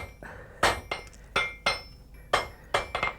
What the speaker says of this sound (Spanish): Golpeando con el martillo en la juntura, el herrero trata de conseguir que las dos piezas queden unidas.